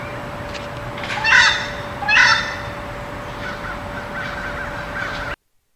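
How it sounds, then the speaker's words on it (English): Crows caw twice in loud, harsh calls over a steady hiss of outdoor background noise, with fainter calls afterward, in Virginia or the Carolinas. "Other random background calls you will hear are crows"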